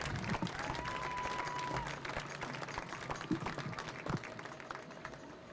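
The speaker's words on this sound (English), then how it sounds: "let's give these military athletes another round of applause for their play here in this competition" Applause from spectators at a women's military football championship, steady dense clapping filling the whole stretch with a crowd murmur and a brief tonal whistle, moderately distant.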